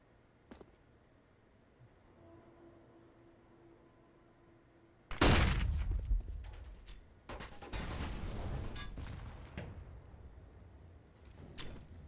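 Grenade blasts and gunfire trade back and forth in a Counter-Strike esports match, a sudden loud broadband burst followed by a dense run of repeated shots and detonations after a quiet stretch.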